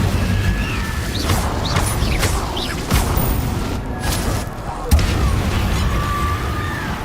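A fire spell cast in the Hogwarts Legacy video game, a burst of crackling, booming magical blasts and whooshes over a dense, continuous game soundscape, with brief impacts around the middle and a stronger hit near the end, while a voice talks over it.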